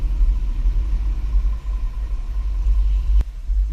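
A 2018 Kia Sedona minivan weaves through a slalom on a test course, giving a steady, loud low road rumble and engine drone throughout, with a brief sharp click near the end.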